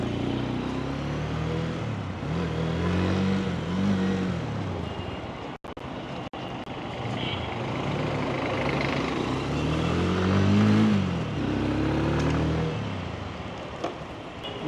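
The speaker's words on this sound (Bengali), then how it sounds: "বাইকটা পরে বসলাম, চালাই" A 150cc American-brand motorcycle being ridden, its engine droning steadily with rising and falling pitch as the rider works through the gears, a brief dropout midway, no talk over it.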